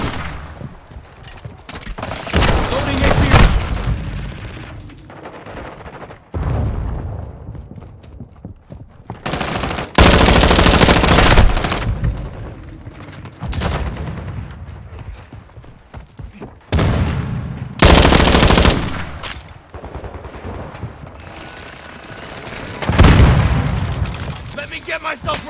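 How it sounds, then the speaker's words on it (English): Bursts of gunfire in the video game Call of Duty: Modern Warfare II, loud volleys and booms recurring every few seconds with brief quieter gaps, shouted voices mixed in. "Taking effective fire!"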